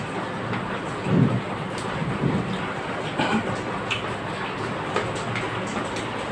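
Steady rain hisses outside during a meal, with a few low rumbles of thunder rolling in the distance, and no voices.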